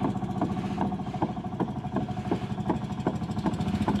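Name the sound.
fishing boat motor running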